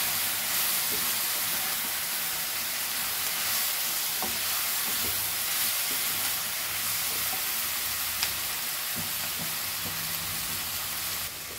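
Chicken gizzards fry with onions in a pan with no water added, making a steady close sizzle and hiss with occasional stirring scrapes and small pops, and no talking.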